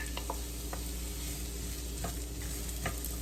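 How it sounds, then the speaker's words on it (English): Onions sizzle in a hot saute pan over a steady low hum, with a continuous frying hiss punctuated by a few light scraping stirs. "And then I'm going to add my onions."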